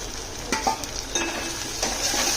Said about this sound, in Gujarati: હવે આપણી લસણ, આદુ, મરચાંની પેસ્ટ અને ડુંગળી સરસ એવી બ્રાઉન થઈ ગઈ છે એટલે આપણે ટામેટો એડ કરી દઈશું.